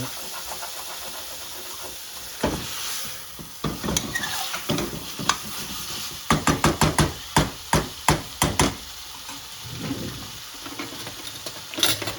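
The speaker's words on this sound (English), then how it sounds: "We don't want to burn it, so scrape it out" Spices scraped off the bottom of a pan while cooking chicken tadka curry, a series of quick, rhythmic scraping strokes, loud and close, with sizzling between them.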